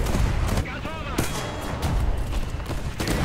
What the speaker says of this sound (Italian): Guarda quanto cazzo sparo, guarda che potenza che uso.